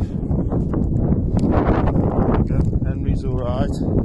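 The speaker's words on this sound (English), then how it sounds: "It's windy." Gusty wind buffets the microphone at a chilly morning campsite in the Peak District, a steady close roar throughout, with a voice speaking partway through.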